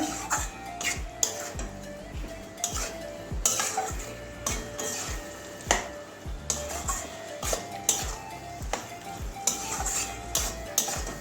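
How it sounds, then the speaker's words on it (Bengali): Marinated soybean chunks stirred in a pan of hot oil and spices, a steady sizzle with repeated scraping and clinking of a spoon against the pan. "এবারে সব মাখা সয়াবিনটা দিয়ে দিচ্ছি এটাকে কষিয়ে নেব ভালো করে"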